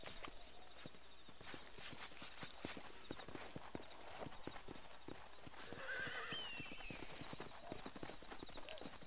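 Horse hooves clip-clop in a steady, quick rhythm in the western game Red Dead Redemption 2, with a whinny rising near the middle and faint mechanical ticking underneath.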